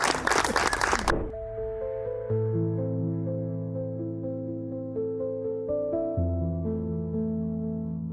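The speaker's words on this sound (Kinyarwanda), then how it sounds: "Reka tukomere amashyi." Wedding guests break into a loud burst of clapping that lasts about a second, then cut off as sustained keyboard music takes over.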